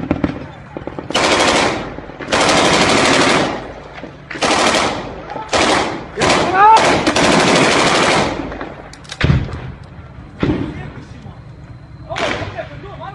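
Loud, close bursts of automatic gunfire crackle in stop-start volleys during combat between Iraqi forces and IS in Iraq in 2015, with shouting voices between the bursts.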